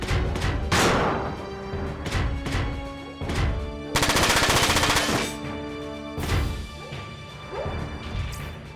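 Automatic machine gun fire in the PS2 game Front Mission 4, with loud bursts of rapid shots, a long sustained rattle in the middle and heavy impact crashes between them.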